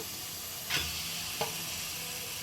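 Fish slides into a hot pan of oil for a curry, giving two short bursts of sizzle over a steady hiss of frying, with no talking.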